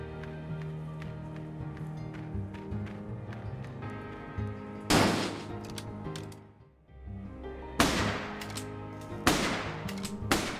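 Ranged weapons fire in the fantasy combat game Legends of Aethereus: rapid, steady clicking shots run through the clip, broken by three louder, sharp bursts that cut through backing music. No one speaks.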